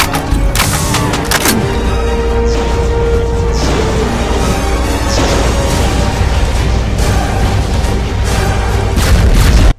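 A fully charged legendary BFG Devastator shot in a DooM mod detonates into a lasting, roaring explosion, dense and loud for the whole stretch with repeated crackling bursts and booms over a rumbling low end.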